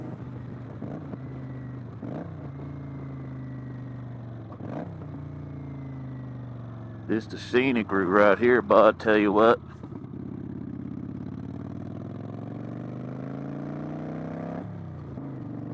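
A 2015 Kawasaki Vulcan 900 Classic motorcycle engine droning steadily while riding, with rising and falling pitch as gears shift, and someone talking over it in the middle.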